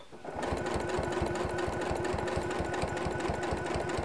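A sewing machine stitches over a quilt seam, starting up and running steadily, its rapid rhythmic stitching thumps repeating evenly, close and fairly loud.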